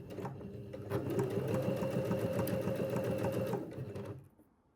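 A sewing machine stitches a revere collar on a shirt with a 10 mm seam allowance, a close, steady rhythmic run of needle strokes lasting a few seconds before winding down to quiet.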